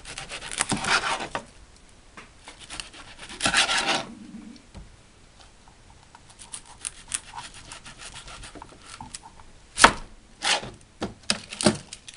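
A knife chops through a whole onion on a board, in irregular bursts of scraping cuts with pauses between and several sharp knocks toward the end, close and alone.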